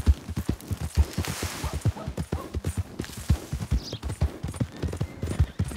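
Horse hooves clip-clopping in Red Dead Redemption 2, a rapid, regular run of close, distinct hoofbeats on ground, loud and steady for several seconds without talk.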